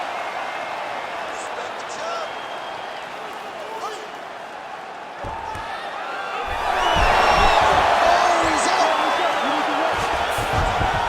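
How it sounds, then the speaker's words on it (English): A virtual arena crowd in the UFC 5 fighting game, during a middleweight title bout, rises from a low murmur into a loud, sustained roar in the second half, heard beneath a commentator's voice. "huge pop from the crowd as the fighters get back up to their feet"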